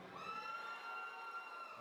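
A lone fan at an MMA fight night cheers with a sustained, high, tonal yell that rises above a faint hall, distant and fairly quiet.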